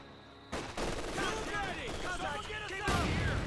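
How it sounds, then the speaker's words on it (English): A mortar round fires in Company of Heroes 2 amid a dense, sustained wash of battlefield gunfire and explosions, loud and continuous, with a commentator talking over the combat. "And that mortar was a pretty good shot there."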